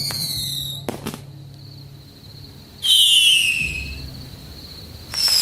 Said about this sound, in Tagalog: bago pa namin maayos na mailagay si Muning, biglang sumabog ang malakas na tunog ng fireworks sa labas.